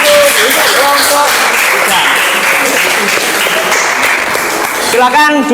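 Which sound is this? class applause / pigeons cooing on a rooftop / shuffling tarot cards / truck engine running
class applause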